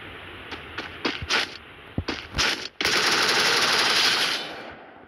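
Gunfire in a video game: several short sharp bursts of shots early on, then a sustained loud rapid automatic volley filling the second half before fading out at the end.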